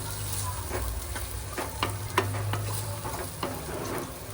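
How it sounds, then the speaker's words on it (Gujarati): Tomatoes with salt cooking in a pan for a Gujarati methi sabji, a soft sizzle under repeated scraping stirs of a spoon against the pan, close and moderately loud, no talk. "બરોબર મિક્સ કરીને ટામેટાને ચડવા દેવાના છે."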